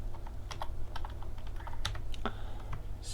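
Fingers typing on a computer keyboard, a quiet irregular patter of light key clicks over a steady low hum, with no one speaking.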